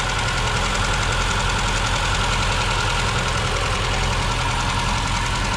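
Vintage 1968 BMW 1602 engine idles roughly after a restart, with a continuous, loud, choppy running note and an uneven knocking pulse, heard alone at close range.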